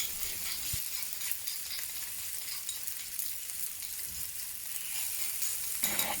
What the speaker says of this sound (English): Add the ground garlic and chili to the oil and start to stir fry